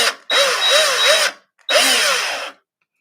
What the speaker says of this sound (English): And I'll just trigger my drill